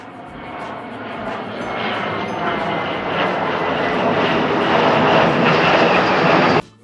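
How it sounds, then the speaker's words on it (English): A military fighter jet roars past, a loud, dense, steady engine rush that swells gradually over several seconds before cutting off abruptly. "Look at the fighter jet. Sleek and powerful, it's used by the military to keep the sky safe."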